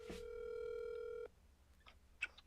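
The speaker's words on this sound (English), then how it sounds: "Hold on, I'm gonna call him on the phone." A phone call's ringing tone sounds as one sustained steady beep for over a second, then cuts off into quiet with faint clicks.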